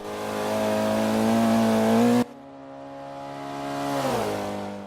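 A racing car's engine in Forza Motorsport 5 holds a loud, steady high rev, drops sharply on a gear change, then winds back up and eases off, with no talk over it.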